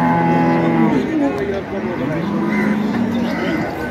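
Dairy cows at the Ambari livestock market in Dinajpur give a low, drawn-out moo up close, surrounded by steady crowd chatter and market bustle.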